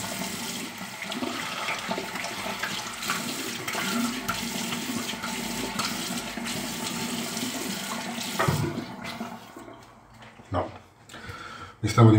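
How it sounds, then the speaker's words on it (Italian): Hot water runs from a bathroom tap in a steady rush for about eight seconds, then breaks into short splashes as it ends. "facciamo scorrere l'acqua calda e andiamo"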